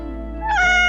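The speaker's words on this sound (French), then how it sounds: "je trouve que ce miaou a l'air trop triste" A cartoon cat gives one sad, drawn-out meow, rising in pitch near the end and sounding close and clear against a steady low hum.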